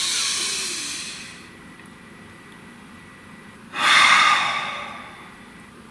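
Two slow, deep breaths during a quiet tarot reading: a long airy exhale fading out, then after a pause a louder, rushing breath, with no talking.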